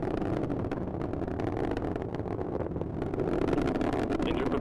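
Atlas V 551 rocket engines throttling back up during ascent on a MUOS 2 launch, heard as a dense, steady broadband roar that holds without a break and carries no voices.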